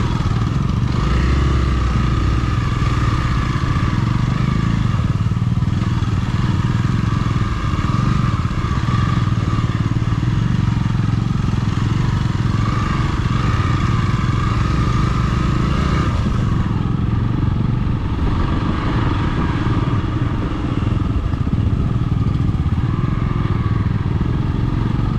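Off-road motorcycles ride a dirt track near Bengaluru, their engines droning and revving continuously and loudly throughout, with rough clatter and no pauses.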